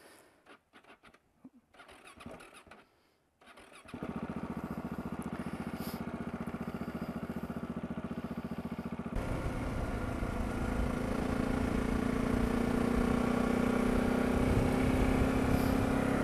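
A Husky 701 motorcycle engine cranks and catches after a few seconds of quiet shuffling, then settles into a loud, close, steady thumping idle that rises in pitch as it revs a little higher, with no speech.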